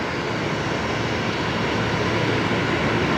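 At Brisbane Airport, a steady, loud broadband roar of aircraft and airport noise carries through while a Fokker 70 in a special silver livery is towed away across the airfield, with no voices.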